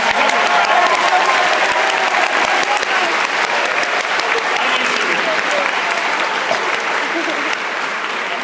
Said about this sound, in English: Let's have a massive, massive round of applause for Juanita